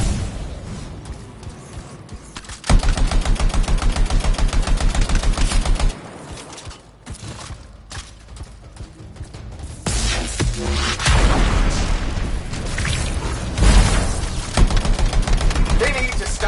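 Bursts of rapid gunfire in the video game Anthem, with dense mechanical rattling volleys that start and stop, alternating with quieter stretches of game sound and brief speech.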